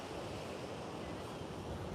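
Ocean waves wash onto an oceanfront beach in a steady, unbroken roar of surf, with wind buffeting the microphone throughout.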